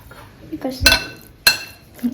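A spoon clinks against a bowl while chicken is mixed with a ginger garlic paste marinade, giving two sharp, close metallic knocks with softer stirring between them and a faint voice in the background.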